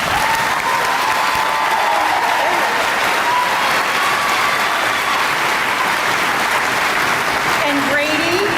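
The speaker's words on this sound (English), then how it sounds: "Please join me in a round of applause for Xander Gurley" A high school graduation audience claps steadily and loudly for a round of applause honoring graduates enlisting in the military, a dense, sustained crowd applause filling the hall for several seconds.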